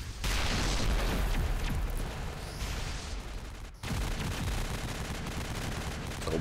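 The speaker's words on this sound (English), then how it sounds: "Lots of gunfire." Dense, continuous video game gunfire in Mass Effect with rapid bursts and booming impacts, loud and sustained, briefly dropping out near the middle before resuming.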